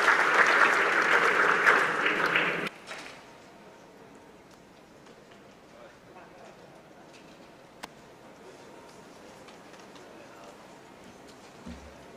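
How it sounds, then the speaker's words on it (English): An audience applauds the panel members at a conference on digital infrastructure policy, a dense, loud round of clapping for under three seconds that stops abruptly, leaving a quiet room with faint murmurs. "I would ask a round of applause for the members of the panel"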